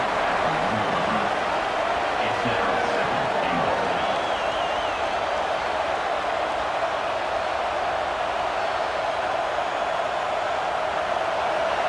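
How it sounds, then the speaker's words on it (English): A large stadium crowd roars continuously as a college football defense holds near the goal line in EA Sports College Football, a loud dense wash that stays level throughout. "And this big crowd doing everything possible to inspire this defense down here near the goal line."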